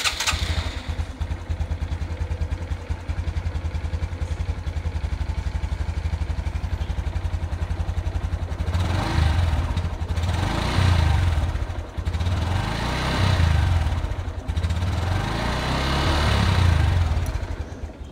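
A Honda Super Cub motorcycle engine, long unused, rumbles at a steady idle throughout, with a few rising revs in the second half as it runs on its own without any talk.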